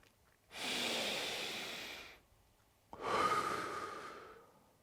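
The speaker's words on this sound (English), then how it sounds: "let's actually all take a breath together" A person takes a deep breath: a long, airy inhale of nearly two seconds, a short pause, then an equally long exhale, close and clear with nothing else heard.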